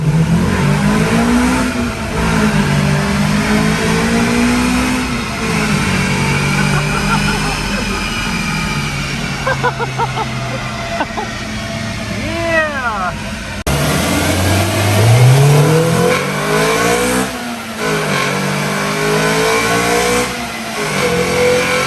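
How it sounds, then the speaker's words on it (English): A car engine revs hard through a VTEC pull in repeated rising and falling surges, close and loud, while people talk and cheer excitedly over it. "One more VTEC pull for the boys."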